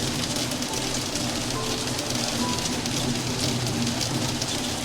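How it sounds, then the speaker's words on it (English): Heavy rain in the video game Until Then pours as a loud, steady hiss throughout, with no gaps and a low background hum beneath it. "I know the rain is really loud."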